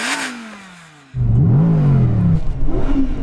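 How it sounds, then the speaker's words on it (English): An Audi R8 GT's naturally aspirated V10 starts with a falling whine, then barks loudly into repeated revs that rise and fall, close and powerful, with a last short blip at the end. "Oh yeah, naturally aspirated V10."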